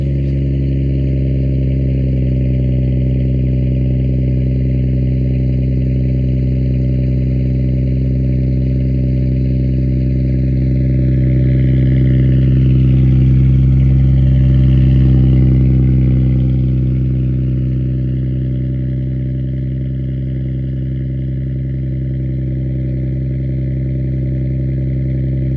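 A tuned BMW M3 Competition with a 3.0-liter hybrid turbo engine idles loudly in a steady, deep drone. It revs up and swells midway through the clip, then settles back to a steady idle, with no speech.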